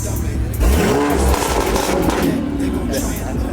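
Car at a Charlotte car show revving with downpipe and exhaust valves open, a loud, deep, sustained engine roar close by while people talk over it.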